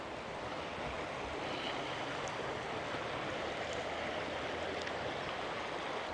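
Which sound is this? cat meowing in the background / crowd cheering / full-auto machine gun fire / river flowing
river flowing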